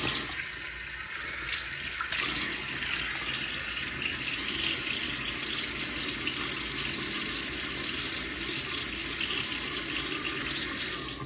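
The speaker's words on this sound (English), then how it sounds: "So let me get my face wet." Steady hissing stream of water running from a bathroom tap while a face is wetted for shaving, continuous and fairly loud throughout with small splashing shifts, no voices.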